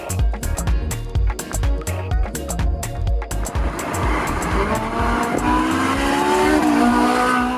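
Ferrari 458 sports car engine revving hard with sharp throttle blips, then a sustained rising wail under acceleration, loud and close with a hint of tire squeal.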